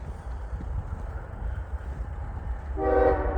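A westbound CSX coal train with two locomotives up front passes east of North Baltimore, Ohio, a steady loud rumble of rolling cars with a brief horn-like tone near the end.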